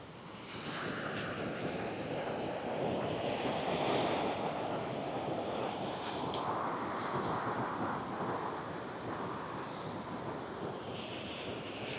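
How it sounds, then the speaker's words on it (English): Ocean waves wash steadily up a weedy shoreline at camp, a continuous broad roar of surf with gusty wind noise over the microphone, fairly loud and close, with no voices. "the waves are still coming right up"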